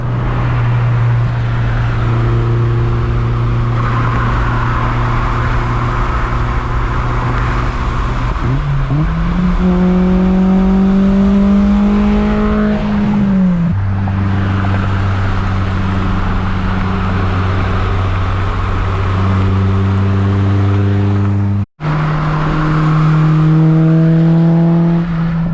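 A Honda S2000 with a new carbon fiber front bumper drives on a hot day, its engine droning steadily near and loud through upshifts, with rising revs and a brief cut near the end.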